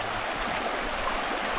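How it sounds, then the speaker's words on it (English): River water at Pedernales Falls Park rushing and flowing steadily, a continuous broad hiss with no pauses, close and fairly loud. "There's the river."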